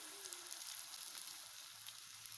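Batter hitting a ghee-greased hot pan gives a soft, steady sizzle, faint and continuous with no talking.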